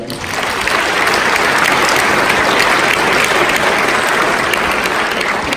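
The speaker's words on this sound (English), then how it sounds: "How about a round of applause for all of our presenters tonight?" Steady, dense applause from a large crowd, loud and sustained throughout without a break.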